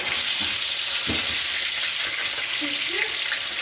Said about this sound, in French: Manu, quitte-la à la friture, s'il te plaît.